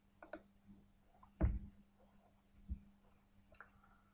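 A computer mouse clicked on a Save button, a few faint, quick clicks near the start and middle against a low steady hum, no voices.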